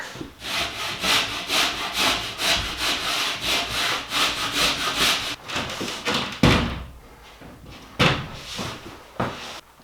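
A wooden board is trimmed with a hand saw, giving loud rhythmic back-and-forth strokes for several seconds, followed by a few scattered knocks and rubs of the wood.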